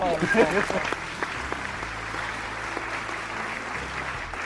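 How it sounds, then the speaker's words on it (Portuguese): Brief applause follows a call for clapping, a thin patter of hand claps sitting faintly under a room tone after a short burst of voice at the start. "Palmas."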